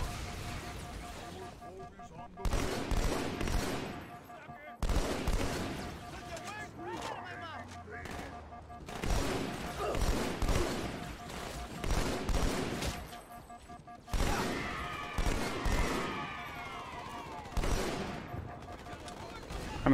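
Bursts of automatic gunfire and blasts from Halo 2 Anniversary crackle in repeated volleys, loud and close, with pauses between the bursts and battle chatter mixed in.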